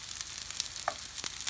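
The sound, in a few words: keftedes (Greek meatballs) sizzling while frying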